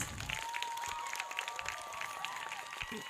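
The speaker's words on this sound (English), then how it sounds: "Give your parents, grandparents, and everybody who's in the campus a bigger round of applause." An audience of parents, grandparents and others on a school campus applauds at a school event, sustained dense clapping with some crowd noise and a faint voice underneath.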